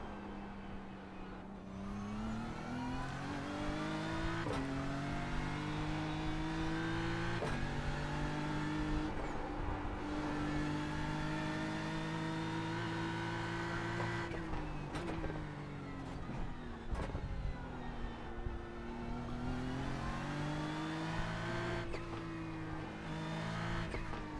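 BMW race car lapping the Nordschleife in iRacing, engine howling continuously with rising pitch sweeps and sharp upshifts every few seconds, close and steady, no talking.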